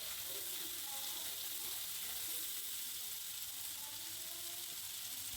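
Ground turmeric, chili and a little cumin sizzle steadily in a pan with water as the mixture is stirred, a continuous soft hiss with no voices.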